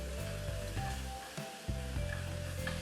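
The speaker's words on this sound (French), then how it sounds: "vous faites revenir avec un peu de beurre des pommes grossièrement hachées. Même chose pour les avelines et les oignons hachés" Coarsely chopped apples, hazelnuts and chopped onions sautéing in butter in a pan, with a steady close sizzle and occasional stirring scrapes.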